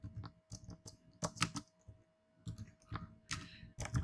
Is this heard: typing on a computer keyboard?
yes